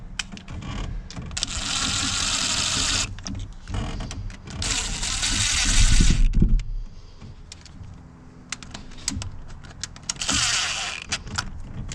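A power drill runs down bolts on a Dodge Charger 392 6.4L engine, giving several whirring bursts of a few seconds each with pauses and light mechanical clicks between them.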